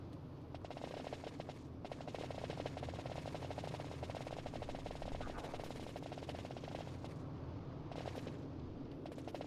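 Bombs explode in a rapid, dense barrage in a Final Fantasy XII battle, loud and nearly continuous, like a rattling string of blasts that runs the whole time with only brief dips.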